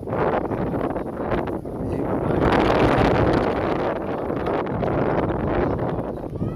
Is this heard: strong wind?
yes